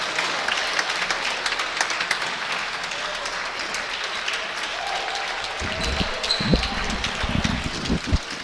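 A crowd at a pro-am quarterfinal match in Boston cheers and claps steadily for a hometown favorite, a dense roar of applause that swells with a few louder shouts toward the end.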